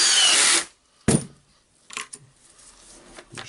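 A power drill screws handle screws back in, a loud half-second whir up close, then a sharp clack and a few quieter rattling, clicking handling noises of the tool and parts.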